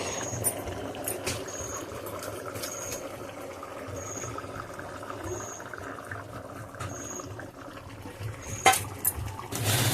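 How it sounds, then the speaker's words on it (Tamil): Potato kuruma thickened with gram flour bubbling in a pot, a faint steady simmer of soft pops and bubbling with occasional clinks, no talking. "இப்போ நல்லா கொதிச்சிட்ருக்கு ஃப்ரெண்ட்ஸ்."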